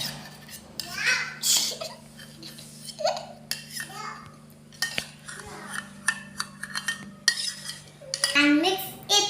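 Utensil scraping and clinking in a bowl as sandwich filling is stirred with white sauce, close, in repeated short bursts, with a voice babbling in the background.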